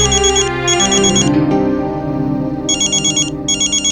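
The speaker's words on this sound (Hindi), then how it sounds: "तारा के दादाजी का फोन" A phone ringtone plays loudly in repeated bursts of bright electronic tones over a melodic backing, with a short pause midway.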